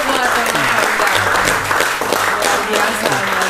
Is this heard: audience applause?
yes